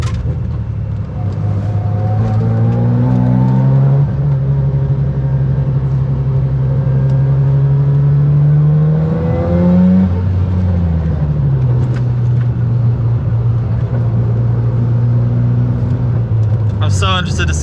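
A car engine hums steadily while driving, its pitch rising and falling through gear changes, loud and close from inside the car, with someone talking over it throughout.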